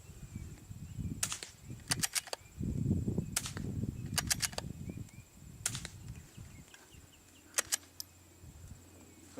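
A .22 firearm, unsuppressed, fired into an earthen berm: four clusters of sharp cracking shots, each a quick burst of two to four reports, spaced a couple of seconds apart over low rumbling outdoor background.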